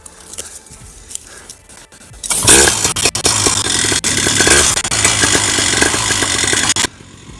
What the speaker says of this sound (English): This is my flying machine, my trike, and I've got to get the engine warmed up.